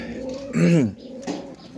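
Pigeons cooing at close range in a loft where birds are kept in pairs, with one loud rolling coo swelling and falling, then a softer call after it.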